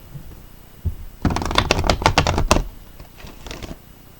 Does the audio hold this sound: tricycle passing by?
no